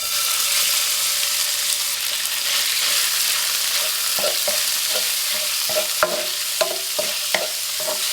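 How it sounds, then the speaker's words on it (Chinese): Diced pork sizzles steadily in hot oil in a wok, with a series of sharp scraping stirs from a spatula growing frequent toward the end; no talking. "锅中放入少许的油，油热后加入切好的肉丁"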